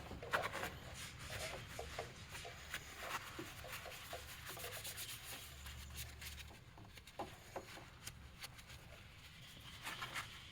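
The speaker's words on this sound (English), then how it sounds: "I'll just give it a spritz and then wipe that gunk off with a rag." A rag wipes grime off a motorcycle brake caliper on an Aprilia RS660 or Tuono 660 during a pad change, giving steady close scrubbing and rubbing strokes that run the whole time with no talking.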